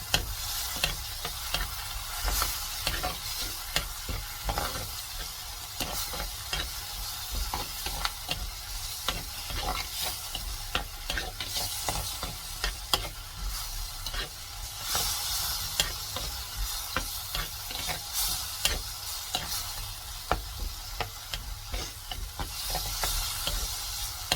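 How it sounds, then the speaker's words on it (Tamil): Ginger garlic paste sautéing in a pan for a mushroom gravy, a continuous soft sizzle and fry with occasional scrape-like stirring, steady and close throughout. "அது இஞ்சி பூண்டு பேஸ்ட் வந்து கொஞ்சம் பச்சை வாசனை போகிற வரைக்கும் வதக்கணும்"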